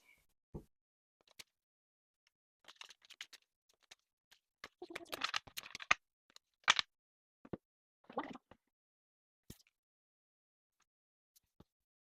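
A deck of tarot cards is shuffled by hand: sparse, faint clicks and taps with short rustling bursts clustered in the middle, and no talking.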